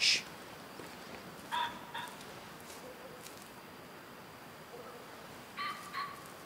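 Strange bird calls in the hunting video game Way of the Hunter: a loud sharp cry at the start, then several shorter squawking calls spaced out over a quiet outdoor ambience, no talking.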